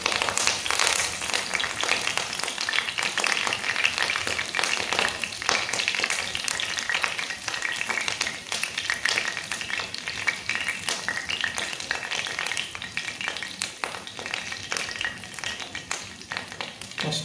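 Curry leaves fry in hot oil in a brass pot, giving a dense, continuous sizzling crackle with occasional stirring scrapes, loud and close throughout.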